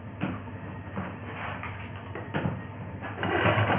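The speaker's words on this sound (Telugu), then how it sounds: "ఇక్కడ ఒక స్టిచ్ వేయండి" A sewing machine stitches the shoulder seam of a gagra blouse, a continuous close mechanical whir running steadily with a few brief louder bursts, picking up toward the end.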